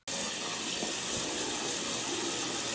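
Tap water pouring steadily into the crystal shaker of a Rainbow High slime kit, a close, constant gushing splash that starts abruptly and runs without pause.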